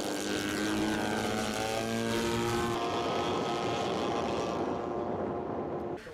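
A radio-controlled Shock Cub model airplane flies past with a steady, loud electric propeller drone whose pitch shifts as it passes overhead, continuous for several seconds before easing off.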